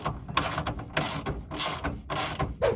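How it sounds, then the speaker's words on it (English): A ratchet tightens a bolt on a GMC Sierra tailgate guard, sounding as several quick bursts of close clicking with short pauses between strokes. "Trying to hold the handle still and tighten this third bolt down."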